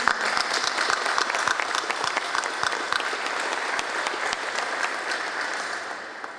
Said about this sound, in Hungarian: Tapsoljuk őt meg még egyszer.